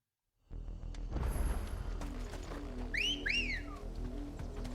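Two quick rising two-note whistles sound in the Final Fantasy XVI video game, bright and clear above a low ambient game rumble and soft background noise.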